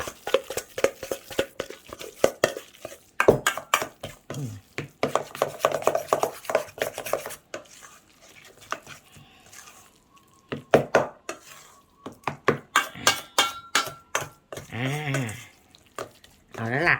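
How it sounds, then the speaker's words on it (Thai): Fried sea bass flakes mashed and worked in an oiled pan, with more oil added, giving repeated scraping and stirring strokes in uneven bursts, close, alternating with someone speaking. "ยียียีให้ทั่ว เติมน้ำมันไปอีก ยีให้ทั่ว"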